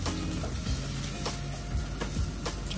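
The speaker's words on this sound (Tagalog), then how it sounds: "lagyan lang natin ng konting oil kasi gisa-gisa natin yung onion" Onion sautéing in a little oil in a pan as the base for chicken Bicol Express, giving a steady, close sizzle and crackle that holds even throughout with no voices.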